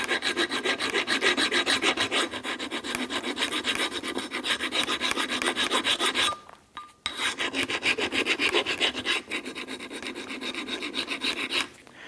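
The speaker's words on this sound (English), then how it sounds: "Using a flat file, we're simply going to work this back and forth and take down any of the rusty" A flat file scrapes rust off a brake caliper bracket on a 2004–2008 Acura TL in steady, rapid back-and-forth strokes. The rasping is close and continuous, with one brief pause partway through, and no talk.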